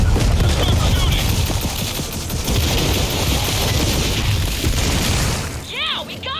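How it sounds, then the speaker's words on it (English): Dense, continuous gunfire and booming blasts from Gears of War 4 roar throughout at high volume, with voices talking over the combat and sharp chirping effects near the end. "Just start shooting."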